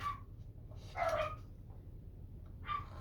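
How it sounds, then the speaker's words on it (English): Dogs bark in a living room, a few short barks heard at some distance and fairly faint over a low steady background hum. "Dogs must hear somebody outside, because they're in the living room and they are barking their heads off."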